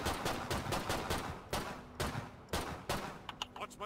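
Assault rifle fire in Killing Floor 2 comes in repeated close, punchy bursts of rapid shots with short gaps between them, loud and continuous across the moment.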